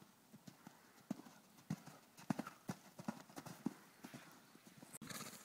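A horse canters in a steady three-beat rhythm of hoofbeats while working in a bungee training aid. The hooves sound moderately close, and a sharp knock comes near the end.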